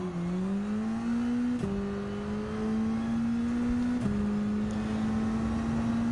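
A race car engine in Gran Turismo 7 drones steadily and fairly quietly, rising in pitch through gears with brief breaks at each shift, alone without talk.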